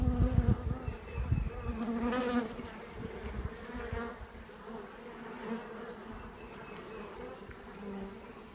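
A virgin honey bee swarm with many queens buzzes in a steady, soft drone of countless wings, with a few louder passes of bees flying close to the microphone early on.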